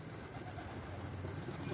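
Soft, low pigeon cooing hums continuously in the background, fairly faint, with no talking.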